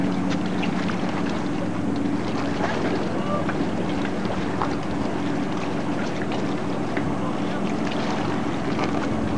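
A motorboat towing a water skier drones steadily at a distance over constant wind buffeting and water wash, with no clear changes in engine pitch.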